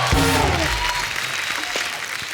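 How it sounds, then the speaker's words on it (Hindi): Loud studio audience applause on a TV comedy show, continuous clapping from a crowd, with music or a brief voice fading near the start. "इनके लिए जोरदार ताली हो जाए"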